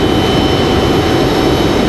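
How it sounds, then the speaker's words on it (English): Loud, steady aircraft engine roar from a small Cessna light plane at Raleigh Durham airport, a broad continuous rumble with no pauses and no voices. "Nice looking little Cessna."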